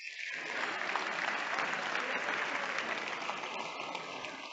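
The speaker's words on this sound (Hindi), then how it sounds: "और आइए इन स्वयंसेवकों को तालियों का एक अच्छा दौर दें।" Audience applause greets volunteers called onstage at a mental-math talk, a dense, steady wash of clapping that swells quickly and holds at full strength throughout, with no voices on top.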